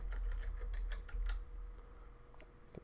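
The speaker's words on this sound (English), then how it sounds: "I'm going to type in Google keyword tool" Rapid keystrokes on a computer keyboard as a search phrase is typed, a quick close patter of clicks that thins out toward the end, heard alone.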